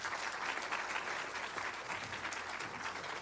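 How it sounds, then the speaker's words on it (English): Audience at a data and privacy summit gives a round of applause, a moderately faint, steady wash of many hands clapping with no speech over it. "Give them another round of applause."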